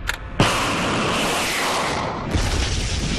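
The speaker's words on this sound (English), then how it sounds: "This is compact rocket sled in" A compact rocket sled ignites with a sudden loud blast and then roars as a continuous broad rushing thrust for several seconds, with a second surge near the end as another stage kicks in.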